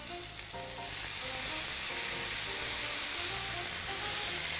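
Salmon sizzling and frying in a hot pan, with a steady broadband hiss that holds close and loud throughout, alone without any talk.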